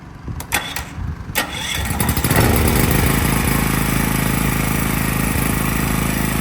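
A LUOTIAN 2.2 kW single-phase petrol generator with an electric starter gives a few cranking clatters, then catches and settles into a loud, steady, buzzing run close by.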